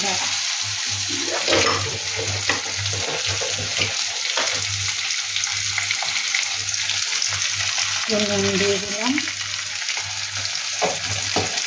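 Parshe fish fries in a pan with turmeric and salt, giving a steady, close sizzle that runs the whole time with small stirring clatters, while a voice speaks briefly near the end.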